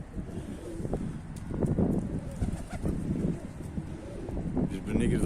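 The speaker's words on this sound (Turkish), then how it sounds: "Rüzgar muhtemelen sesi bozuyor." Gusty wind buffets the microphone with a low, rumbling roar throughout, while pigeons coo and seagulls call faintly in the background.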